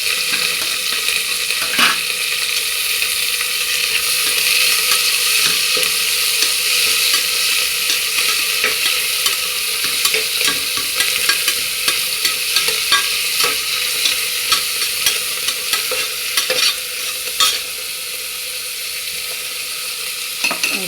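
Onions for a vegetable biryani sizzle steadily in hot oil while being stirred in a pan, with a continuous close frying hiss and scattered scraping clicks from the spoon throughout, no talking.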